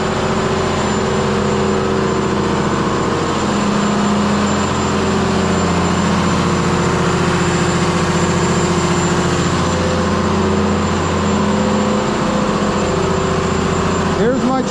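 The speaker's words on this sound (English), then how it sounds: "This pump needs to run for 1/2 an hour." A fire pump engine runs steadily at constant speed during a half-hour pump test, a loud, continuous low drone with a high whine above it and no change for the whole stretch.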